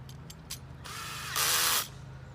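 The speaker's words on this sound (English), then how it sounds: "we'll take our 7/16 socket and we'll tighten down the frame completely" Ratchet wrench with a 7/16 socket tightening bolts on an assembled frame: a few quick clicks, then a sustained raspy ratcheting burst close by, with no talk.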